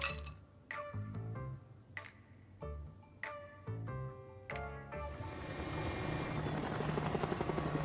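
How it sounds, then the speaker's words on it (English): In the video game Love and Deepspace, a helicopter lands behind a breakwater on a desolate stretch of Verona's coastline: a series of bright chiming clinks gives way to a swelling, steady rotor whoosh that builds over the final seconds. "The helicopter lands behind a breakwater on a desolate stretch on Verona's coastline."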